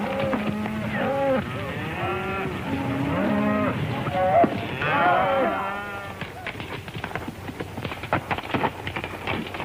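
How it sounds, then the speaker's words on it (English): A herd of cattle lows repeatedly, with several overlapping moos of varied pitch filling the first half, then thinning into scattered farm noise and faint background murmur. "It's a fine-looking herd of cattle."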